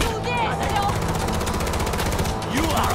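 Rapid machine-gun fire from Far Cry 4 rattles in a fast continuous burst, loud and close, over an action-game backdrop with a brief spoken voice.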